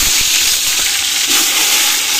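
Whole spices (cloves, cinnamon, bay leaf) and onion frying in hot oil in a village kitchen give a loud, steady hiss and sizzle that fills the whole stretch without pause.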